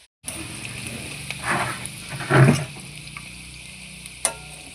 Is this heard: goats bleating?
no